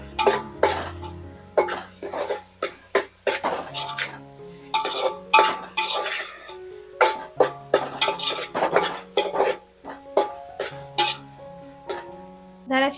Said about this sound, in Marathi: 2 मोठे चम्मच आलं लसूणची पेस्ट ते पण मस्तपैकी मिक्स करून घ्यायचे